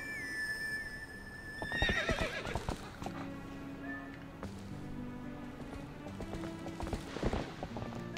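Horse whinnies ring out in The Legend of Zelda: Twilight Princess, with a loud neigh early on, clip-clopping hooves, and further calls over game music and chimes, near and clear without speech.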